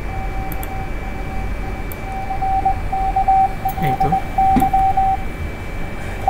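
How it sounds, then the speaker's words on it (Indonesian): Morse code tones from a uSDX amateur radio transceiver, a steady mid-pitched beep keyed on and off in short bursts, playing fairly loud over a constant background hiss and hum. "Dan ini Morse-nya kan diketok."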